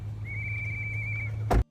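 A single whistle blown by protesters at an immigration raid in Minneapolis gives one steady, fairly loud, high tone for about a second over a low hum, followed by a brief thump before it cuts off.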